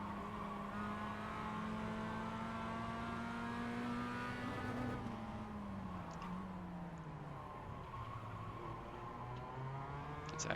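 Mazda MX5 race cars lapping Oschersleben in the iRacing sim, one engine droning steadily with its pitch rising and falling through gear changes and corners, continuous and fairly close, no voices.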